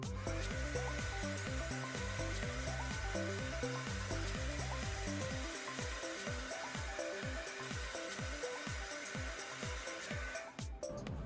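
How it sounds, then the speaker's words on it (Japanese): A hand-held hair dryer blows steadily on hair, working from the roots toward the ends; a loud continuous whir with a rhythmic pulsing that changes partway through, no voices. "まずドライヤーを根元の付近から毛先に向かって風を当てます。"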